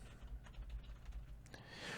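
Rapid keystrokes on a computer keyboard, a steady patter of light clicks at close range, ending in a brief burst of brighter noise.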